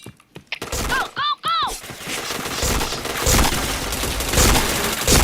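Gunfire in the online shooter Point Blank during a team match: a brief cluster of sharp shots and game effect tones early on, then a dense, continuous wash of rapid firing and in-game noise, loud throughout.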